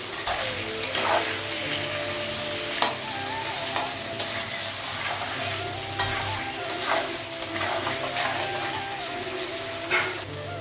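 Potatoes and drumstick (moringa) pieces fry in a pan in a Bengali home kitchen, giving a steady close sizzle with occasional sharp scrapes and clinks of a stirring spoon against the pan.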